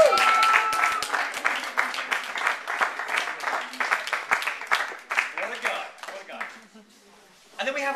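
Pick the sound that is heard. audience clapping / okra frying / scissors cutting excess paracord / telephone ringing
audience clapping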